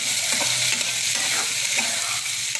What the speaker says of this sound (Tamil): இப்போ வந்து ஆனியன் நல்லா வந்து ஃப்ரை ஆகும்